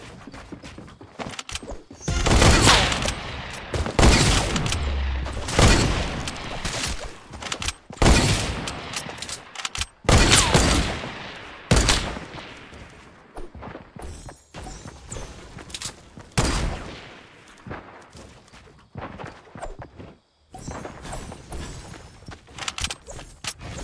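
Hunting rifle fire in Fortnite, a run of loud, sharp shots in irregular bursts, some spaced apart and others clustered, crackling close over a dense game soundscape with faint talk now and then.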